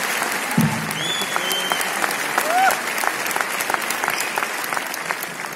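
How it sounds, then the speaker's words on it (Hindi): An audience at an event in Varanasi breaks into loud, dense applause that carries on steadily, with whistles and scattered crowd voices rising through the clapping. "मैं चाहता हूं सर के लिए भी जोरदार तालियां होनी चाहिए।"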